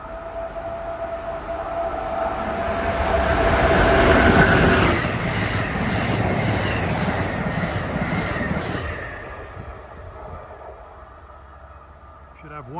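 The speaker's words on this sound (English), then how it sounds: "Here comes the Crescent, number 20, New Orleans to New York at 2:42." The Amtrak Crescent passenger train, number 20 from New Orleans to New York, passes close trackside on the old B&P Northeast Corridor line. It is a loud, steady rolling rumble with faint wheel clatter that swells midway and fades toward the end.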